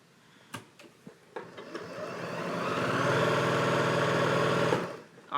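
A Janome 6700P sewing machine sewing fast, heard as a few clicks before a steady, loud, whirring motor run of several seconds that stops abruptly; no talk.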